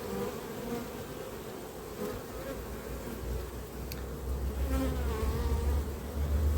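Honeybees drone in a dense, continuous buzz while a beehive is opened for inspection. The swarm sounds close and steady, with the hum thickening slightly toward the end.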